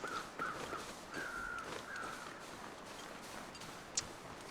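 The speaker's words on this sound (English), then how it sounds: "you'll notice that you'll start hearing crows" Crows cawing in a dark video game landscape near a mountain range at the map's edge: several drawn-out caws in a row, moderately distant, over a steady ambient wash with a sharp click near the end.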